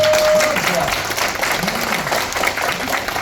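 Seminar audience at an Incheon center applauding on request, a dense continuous clatter of clapping with voices mixed in.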